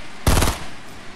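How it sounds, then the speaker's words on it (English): Automatic gunfire in Fortnite Battle Royale, a single loud burst of rapid shots lasting about a quarter second, close and sharp, followed by fading quiet. "Someone's shooting from behind."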